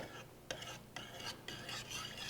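A spoon stirs thick, long-simmered tomato Sunday sauce with added sugar in a pot, making soft, quiet scraping strokes that come in a few slow passes, with no talking.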